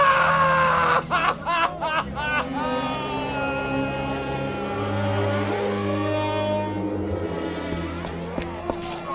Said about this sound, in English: I heard him screaming